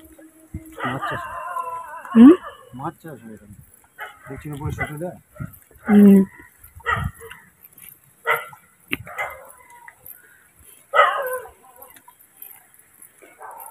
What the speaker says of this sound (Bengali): ওইখান দিয়ে ঘেউ ঘেউ করছে।